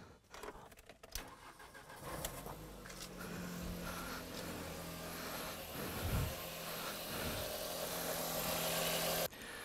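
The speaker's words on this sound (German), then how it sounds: "Jetzt machen wir den Motor an." A 1998 Skoda Octavia 1.8 AGN engine cranks and catches, then settles into a steady, close idle with a low rumble and faint vibration.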